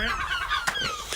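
A young herring gull chick, handled by a person on a ladder while being returned to its parent, gives a run of thin, high whistling cries with a couple of sharper squeaks, near and moderately loud.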